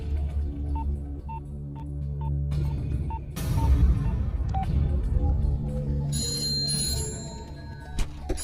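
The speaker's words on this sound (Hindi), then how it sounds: "सर, घंटी बज रही है, कोई फोन नहीं उठा रहा है।" A telephone rings repeatedly and goes unanswered in a film scene. Evenly spaced ring tones sound at first, then a surge of dramatic background score covers them.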